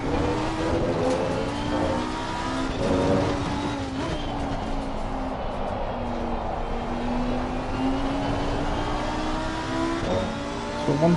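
In the racing game Assetto Corsa Competizione, a race car engine revs continuously, its pitch climbing and dropping through gear changes over about eleven seconds, with no voices.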